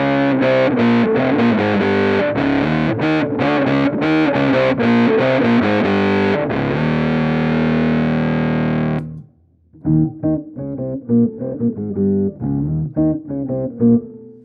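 Heavily distorted electric guitar through a BOSS OC-5 octave pedal, a little octave down and a lot of octave up, chords and riffs played loud and continuous, then a short pause before choppier phrases resume.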